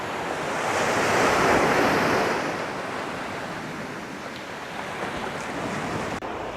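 Ocean waves wash onto a palm-lined tropical beach at sunrise around the turn of the tide, a steady broad roar of surf that swells and eases, with light wind buffeting the microphone.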